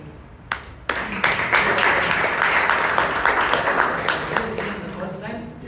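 Audience applause at a Toastmasters club meeting in Bangalore, a few loose claps at first, then a full sustained round of clapping that slowly thins toward the end, with faint voices underneath.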